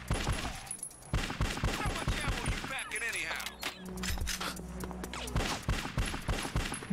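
Bursts of gunfire in the video game Bad Boys: Miami Takedown crackle in rapid fusillades and scattered single shots, while someone talks over much of it.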